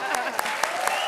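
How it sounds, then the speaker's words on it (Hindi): A television comedy show's studio audience claps, brisk and dense, with sharp individual hand claps standing out in a lively burst, and a voice faintly audible underneath. "ताली बजाओ ना फिर।"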